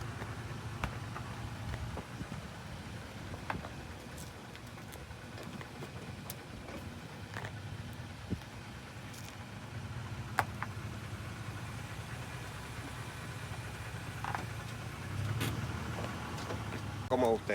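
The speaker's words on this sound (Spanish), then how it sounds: "ahora vamos a poner el vehículo en movimiento" A vehicle with a bolt-on trailer jack and trailer hitched beginning to move: a low, mid-pitched engine runs steadily with some vibration and rattles, close, under occasional talk.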